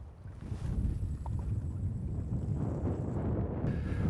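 A fishing boat motors up onto a shallow point of water while fishing for blue catfish, its low engine rumble blending with strong wind buffeting the microphone.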